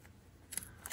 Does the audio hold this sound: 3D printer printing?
no